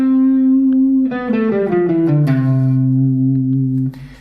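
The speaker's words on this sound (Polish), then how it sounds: "Zagrajmy je na gitarze." Guitar notes played one after another in a natural minor scale, A through G and back up to A, each tone ringing clearly and sustaining into the next with no talk.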